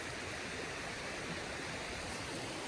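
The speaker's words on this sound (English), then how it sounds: "Creek right there." A creek runs near a wilderness bushcraft camp, its water flowing in a soft, even, continuous hiss with no other sounds standing out.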